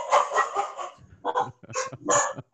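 Dogs inside a house, one of nine kept there, bark in a string of short, sharp bursts. A dense cluster comes first, then separate barks with brief gaps. They are close and fairly loud.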